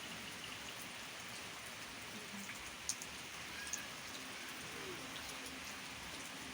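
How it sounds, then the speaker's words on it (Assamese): Light rain falling steadily in a rural Assamese village, a soft, even hiss of drops on surfaces with a couple of faint, brief ticks and no talking. "এই বৰষুণ কিনকিনকৈ মাৰি আছে"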